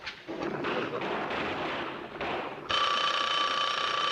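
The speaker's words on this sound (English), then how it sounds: "Answer the phone, will you, Murr?" A telephone rings in a 1970s TV newsroom sitcom scene, its sustained bright tone cutting in loudly after a stretch of dense, rumbling background noise.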